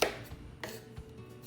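Onions and garlic are chopped with a knife, giving a few short, dull knocks on a board that are spaced unevenly and sound fairly faint in a quiet room.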